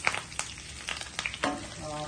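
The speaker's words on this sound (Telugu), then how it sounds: "కాస్త కరివేపాకు తాలింపు మాడిపోకుండా జాగ్రత్తగా వేపించుకుందాం" Curry leaves and garlic fry in hot oil as a tempering for a coconut-sesame chutney, a close, busy sizzle with irregular pops and stirring scrapes, no voices.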